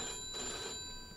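A telephone rings in Mafia 2, a steady electronic bell tone sustained for about a second over faint room ambience, nobody speaking.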